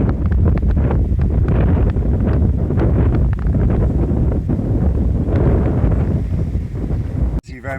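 Strong wind buffets the microphone outdoors in the countryside, a loud continuous rushing roar with gusty swells that ends in a brief rustling knock.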